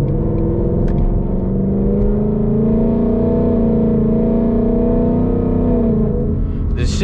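Ford Mustang GT with a quick-shifting 10-speed transmission, its engine holding a loud, close, steady drone whose pitch rises and eases slightly over several seconds, with no talking.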